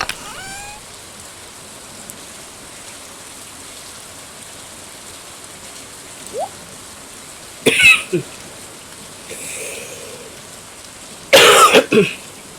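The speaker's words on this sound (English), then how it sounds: "I'm so sorry for the coughing." A few short coughing fits break through a quiet, hissy background, one brief pair midway and a harsher cluster near the end, with a faint throat sound between.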